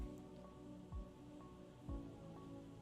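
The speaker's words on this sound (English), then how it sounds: "Don't know if you guys can hear the rain, the hail." Steady rain with hail drumming on a surface, a dense even patter with occasional heavier low thumps, under faint background music.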